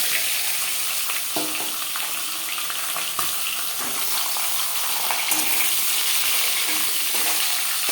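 Marinated silver carp fish head fries in hot refined oil, a loud continuous close sizzle and crackle with occasional soft spatters and clicks, no voices.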